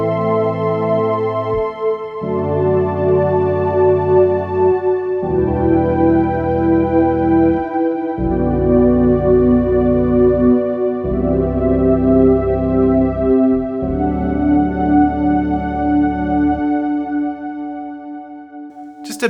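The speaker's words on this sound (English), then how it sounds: "Just a beautiful pad sound coming out of there, and it's actually a couple different pads layered together" Layered synth pads are triggered from a guitar through an Emerald Virtuo MIDI pickup. Smooth sustained chords change every couple of seconds, a singing lead line comes in over them, and the sound is full and continuous with no talking.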